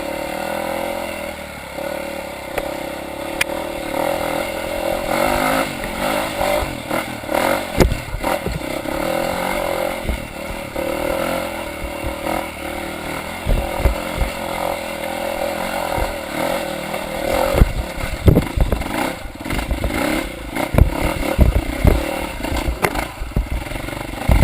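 A motorcycle on a wet, slippery hill climb, ridden with no clutch, revs in repeated sharp throttle bursts over a steady engine drone, with clattering and scraping as it struggles for grip.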